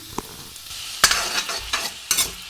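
Sizzling vegetables frying with spices, with sharp scraping strokes of a spoon stirring in a pan, about three distinct stirs over a steady hiss.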